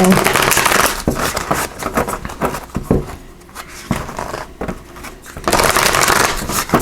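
Oracle cards shuffled by hand up close, a papery riffling and shuffling with short pauses between bursts.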